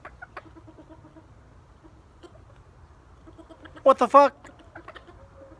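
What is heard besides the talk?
chicken clucking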